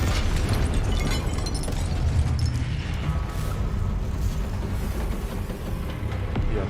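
Confringo spell blasts go off in the Hogwarts Legacy game, with loud continuous explosive bursts and crashing noise that keep going throughout.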